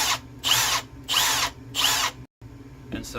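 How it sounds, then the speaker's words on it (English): A Milwaukee M18 brushless hammer drill whirs in three strong bursts of similar length with short gaps between, then a brief fourth start after a moment of silence, loud and close. "when you actually pull the trigger on this drill, you feel a lot of power"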